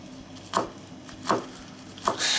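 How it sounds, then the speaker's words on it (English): Three evenly spaced knife chops through watercress (cresson) on a cutting board, close and distinct, with a soft hiss at the end. "All of these ingredients I chop like this"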